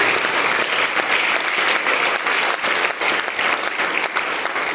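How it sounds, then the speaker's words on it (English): Loud, dense audience applause at a community theater art show, steady clapping filling the whole stretch with no talk over it. "Let's give them another round of applause, please."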